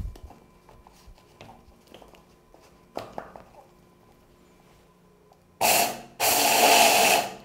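A small electric grinder whirs loudly for two close bursts, grinding sesame and salt for gersal (gomasio) in a home kitchen, after quieter handling clatter.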